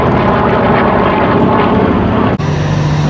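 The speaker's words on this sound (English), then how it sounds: "Over the threshold then, Dave Southwood in the Fighter Collection's P-40B Warhawk." A P-40B Warhawk with an Allison engine drones steadily overhead at a Duxford air show, its propeller roar loud and sustained with a brief dip near the end before the engine note resumes.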